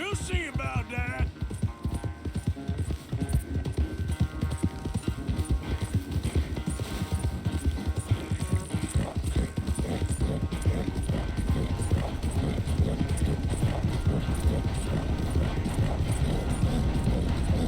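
Horse galloping under a rider in Red Dead Redemption 2, a steady rapid clip-clop of hooves that runs the whole time, close and loud over a rumbling background hum.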